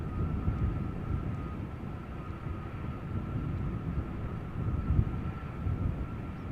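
A departing airliner roars at Amsterdam Schiphol Airport as a broad, steady low rumble of jet engines that rises and falls slightly, with a faint high whine over it and no voices.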